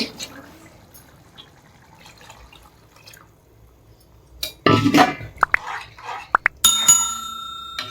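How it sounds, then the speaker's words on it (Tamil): Tamarind soaking water is poured into a pot for Tamil meen kulambu fish curry, a short splashing burst after a quiet stretch, followed by a few sharp clinks of metal cookware. "இந்த ஊற வச்ச தண்ணி ஊற்றிடலாமல்லடா"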